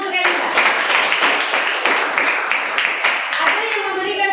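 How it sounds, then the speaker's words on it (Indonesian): A room full of people claps in steady applause for Elisa at a church discussion gathering, dense overlapping hand claps at close range with no break. "beri tepuk tangan untuk Elisa"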